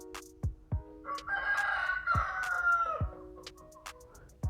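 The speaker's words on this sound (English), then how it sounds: "Why are you crowing now?" A rooster at an animal sanctuary crows once at close range in the middle of the night, a long loud call in the middle, with sharp knocks and thumps before and after it.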